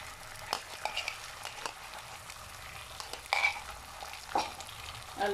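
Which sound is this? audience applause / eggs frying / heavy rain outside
eggs frying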